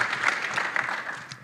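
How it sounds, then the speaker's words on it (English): Audience applause at an Air, Space & Cyber conference session, a steady wash of clapping from a crowd that holds evenly for the whole moment. "that is something that is very worthy of a round of applause"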